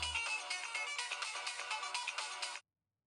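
A mobile phone ringtone plays loudly and steadily in a home for about two and a half seconds, a bright, busy melodic tone that cuts off abruptly into silence.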